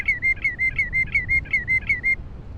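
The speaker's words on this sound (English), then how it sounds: "What bird is that?" A bird at a lake gives a repeated, steady series of clear whistled notes, eight or so in a quick even rhythm, loud and close over a low wind-like rumble, then stops.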